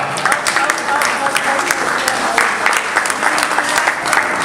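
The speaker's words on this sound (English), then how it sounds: "a round of applause for her." A workshop audience claps in sustained, dense applause at a home buyers' real estate event, the steady clatter of many hands filling the room without pause.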